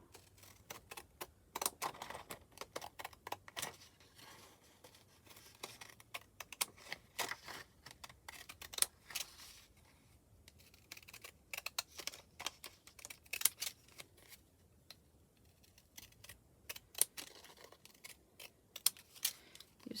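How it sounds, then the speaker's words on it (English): Scissors cutting paper for a handmade DIY greeting card, heard as quiet, irregular snipping clicks scattered across a faint, close-up background. "And then I can cut it out with my scissors"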